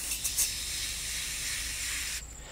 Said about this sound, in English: get your glass cleaner and a microfiber towel and spray directly onto the towel